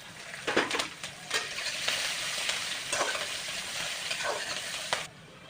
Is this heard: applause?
no